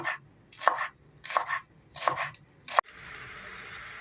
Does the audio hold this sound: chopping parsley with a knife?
yes